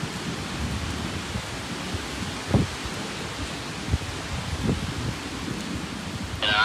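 Steady rain falls during a thunderstorm, a continuous hiss with a few faint knocks and thumps, heard alone without talk.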